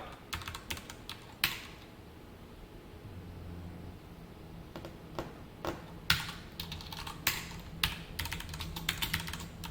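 Keys clatter on a computer keyboard while code is typed for a JavaScript and jQuery lesson, arriving in uneven bursts of quick taps with short pauses between them, close and moderately loud over a faint steady hiss, with no talking.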